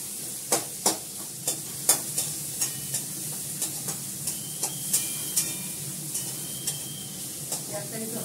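Onions frying lightly in a pan beside boiled chow mein, a steady sizzle broken by regular sharp spatula scrapes and taps against the metal, close and rhythmic.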